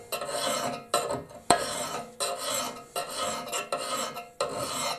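A hand file rasps across the edge of a wildland fire tool such as a Pulaski, axe, McLeod or shovel, in about six firm, evenly spaced strokes with short pauses between them, close and loud with no talking.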